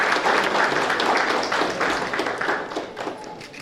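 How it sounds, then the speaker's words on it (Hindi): Strong audience applause at a National Voters' Day ceremony in Simdega, Jharkhand, dense clapping that starts loud and slowly fades. "जोरदार तालियों के साथ स्वागत है।"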